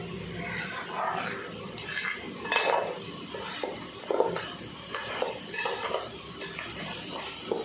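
Ginger-onion paste fries in a pan for goat head curry, a soft sizzle under repeated scrapes and clinks of a spoon stirring against the metal.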